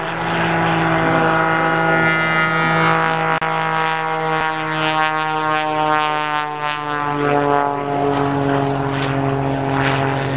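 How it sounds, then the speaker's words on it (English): A propeller airplane drones loudly overhead down the show line at an air show in Janesville, Wisconsin, its steady buzzing engine tone sustained and close as it flies past low. "bringing the airplane right down the show line here."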